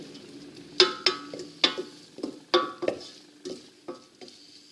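Shallot sweats in a pan before endive goes in, soft sizzling under a series of sharp metallic spatula clacks and scrapes against the pan, close and uneven in rhythm, no voices.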